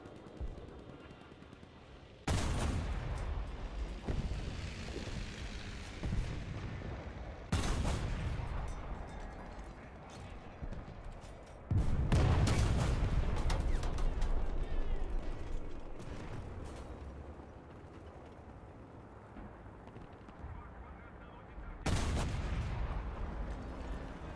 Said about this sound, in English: Artillery is coming.